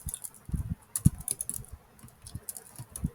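Typing on a computer keyboard, with irregular bursts of close, crisp key clicks separated by short pauses.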